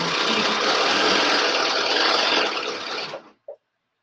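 A sewing machine stitches a curved back seam in leggings fabric as a steady, close, whirring run for about three seconds, then it stops and a single small click follows.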